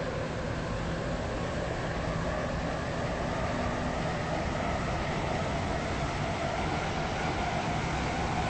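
A Class 168 train in a video game runs steadily with a continuous rumbling hum and rail noise, constant and close with no breaks.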